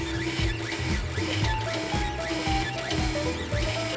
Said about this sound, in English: So we're going to 3D print it now.